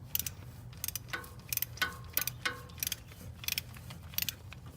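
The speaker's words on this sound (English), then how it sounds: "And eventually hear the torque wrench click" A torque wrench ratchets in a quick run of small sharp clicks while a spark plug is tightened to 132 inch-pounds, close and fairly quiet over a low background hum.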